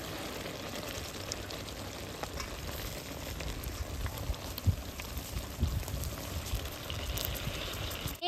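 Hot water poured slowly into bubbling rasgulla syrup, a soft continuous simmer with gentle pouring and splashing, fairly quiet and steady throughout with no talking.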